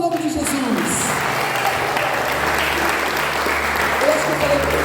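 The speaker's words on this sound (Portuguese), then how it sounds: "Um aplauso em nome de Jesus." Church congregation applauding together, a broad steady wash of clapping throughout at close range, with some voices mixed in.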